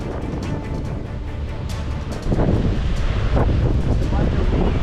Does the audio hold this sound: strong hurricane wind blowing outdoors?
yes